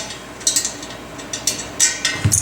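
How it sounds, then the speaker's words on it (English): Ratchet wrench snugging bolts on a Harbor Freight bench grinder pedestal column, giving a few short bursts of light metallic clicking at an uneven pace, fairly close. "take our ratchet wrench, start snugging her up"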